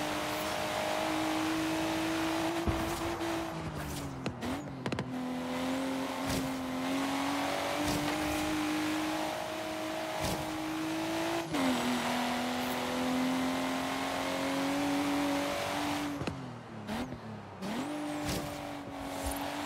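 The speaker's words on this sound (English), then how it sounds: "So this inline six really pulls." Mercedes C63 AMG with an inline six engine revs hard in Forza Horizon 3, its steady drone climbing and dropping through repeated gear shifts, with brief tire squeal and no talk over it.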